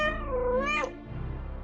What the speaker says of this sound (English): Yes, this is my cat.